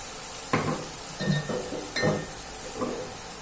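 Oyster sauce goes into a pan of stir-fried wide rice noodles with chili, a few sizzling bursts and scrapes of a utensil against the pan at low heat, close and fairly soft.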